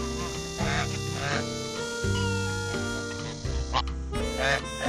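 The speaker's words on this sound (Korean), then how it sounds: "앵두를 본 거위들은 흥분하기 시작한다." Several geese grow excited and honk repeatedly at a hen, their loud nasal calls overlapping in uneven bursts at close range.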